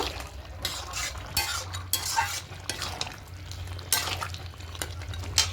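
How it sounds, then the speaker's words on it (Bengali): Ghee being stirred and mixed into a soybean and rohu fish head dish in a pan, with repeated scraping strokes of a spatula over a low sizzle, close and steady, no talking. "এবার খুব ভালো করে মিশিয়ে নেব"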